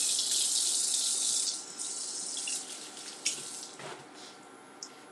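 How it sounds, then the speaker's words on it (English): Tap water runs steadily into a sink during hand washing in a kitchen, a close, continuous hiss and splash that shifts in tone as hands move under the stream, with no talking. "let me wash my hands"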